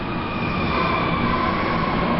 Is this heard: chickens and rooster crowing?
no